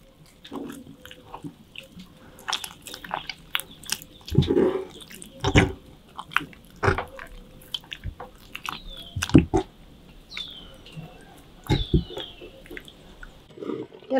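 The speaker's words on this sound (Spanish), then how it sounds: "Voy a empezar a amasar la masa." Masa dough for mole de olla is kneaded by hand in a kitchen, giving wet squishing and slapping sounds in uneven bursts, fairly close and alone.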